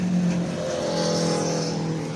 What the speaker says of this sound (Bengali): super bike